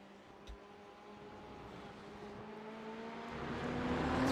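GT3 race car engine in an iRacing sim race at Road Atlanta, a steady drone that rises gradually in pitch and loudness as the car accelerates, fairly faint and heard alone.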